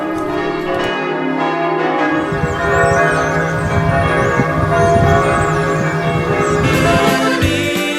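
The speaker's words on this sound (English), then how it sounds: "Clock towers and church bells ring out all along the way." Church bells ringing along Germany's Romantic Road, a loud, continuous peal of overlapping bell tones that rings throughout with a sustained, shimmering resonance.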